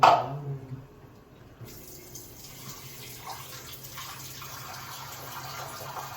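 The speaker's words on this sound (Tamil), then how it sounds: "அந்த தண்ணியை மேலே அப்படியே ஊற்றிடுவேன்" Water pours steadily into a cooking pot, a soft continuous splashing close by after a brief clatter at the start, while making soup.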